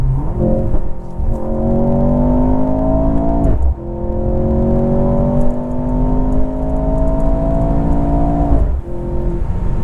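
A 2023 Mercedes C43 AMG sedan engine revs hard and accelerates up through the gears, loud and close, with rising pitch sweeps broken by two sharp shift cuts.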